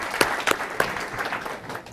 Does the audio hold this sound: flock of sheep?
no